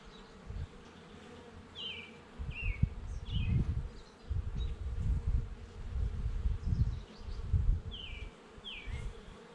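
Honeybees buzz in an open hive as a low, fluctuating drone that swells and fades throughout, with a few faint higher chirps over the top.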